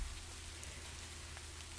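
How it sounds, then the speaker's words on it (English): Steady rain ambience played quietly behind a writing stream, an even, faint hiss of falling drops with no variation or speech. "We need to have our rain at just the right volume."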